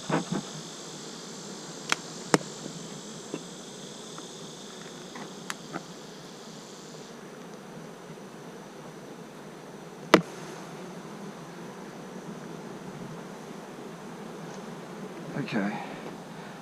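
Honey bees buzzing steadily around an open hive during a honey harvest, a dense continuous drone close by with a few clicks and knocks of handling, and a voice speaking briefly.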